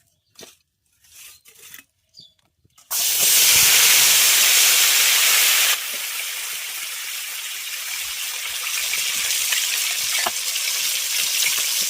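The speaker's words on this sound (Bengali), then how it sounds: "তেল গরম হয়ে গেলে দিয়ে দেবো টমেটো কুচি" Chopped tomato hits hot mustard oil for a spicy okra dish, setting off a sudden loud, steady hiss and sizzle that starts after a few seconds of quiet taps, then settles a little lower while staying continuous.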